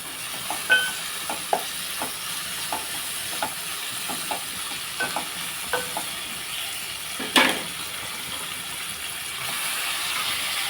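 Broad beans stirred through a sizzling curry pan with tomato, steady frying hiss broken by a dozen sharp spatula scrapes at irregular intervals, one louder clatter near the end, no talking.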